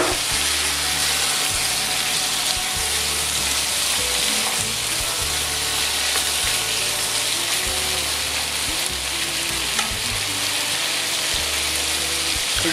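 Parsnips fry in a pan with aromatics for a veal and pumpkin sauté, giving a steady, close sizzle and crackle with a low hum underneath, and no voices.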